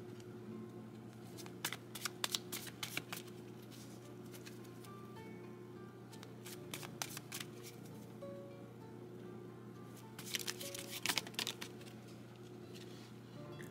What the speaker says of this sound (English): let me pull a couple oracle cards